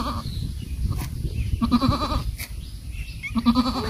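A goat bleats in two short, wavering calls, close and fairly loud, over a steady background hum with no talking.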